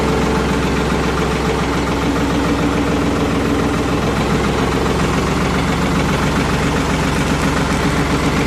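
A Ford 4110 tractor engine runs steadily at close range, a loud, continuous diesel chug with a rough knocking rumble and vibration throughout, with no talking.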